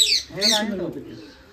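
Desi pigeons give a short, close cooing call with a rising then falling throaty tone, a quick burst that fades out within a second or so.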